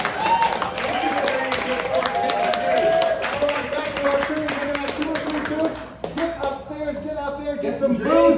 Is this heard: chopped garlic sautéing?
no